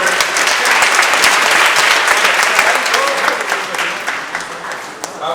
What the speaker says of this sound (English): Round of applause again to Mr. Odrek.